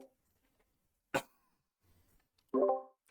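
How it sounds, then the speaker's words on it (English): A single sharp cough bursts out about a second in, followed by a short throat sound and a brief voiced noise near the end, otherwise near silence. "Sorry, I had to cough there."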